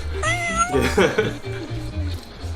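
A house cat meows loudly and close by, several drawn-out, whiny calls in quick succession, some rising and falling in pitch like a caterwaul.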